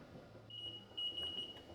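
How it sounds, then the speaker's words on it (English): A kitchen timer on a stovetop beeps during water-bath canning of pickled vegetables: a thin, steady high-pitched tone that breaks briefly, then resumes, over faint background noise. "so that's our timer now"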